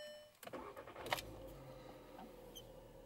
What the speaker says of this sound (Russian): Включим зажигание автомобиля с помощью ключа.